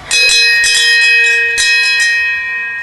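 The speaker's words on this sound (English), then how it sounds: "Okay, I'll ring the bell." A bell at Camp Hawthorne is rung twice in quick succession, each loud, bright metallic strike ringing out with long sustained overtones that slowly decay.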